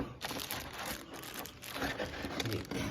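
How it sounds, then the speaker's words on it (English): Steady close rustling and scraping of box packaging as a pair of black speakers is lifted out, a continuous papery crinkle with no one speaking. "we'll take these out of the box and set them aside for now"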